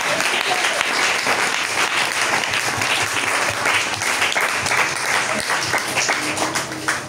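A church congregation applauding together, with loud, dense, sustained clapping that fills the room from start to finish.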